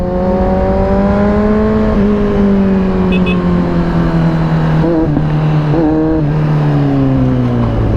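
A Kawasaki Z900 motorcycle is ridden at high speed with a passenger aboard. Its engine gives a loud, steady droning whine that drifts slowly in pitch, with no voices.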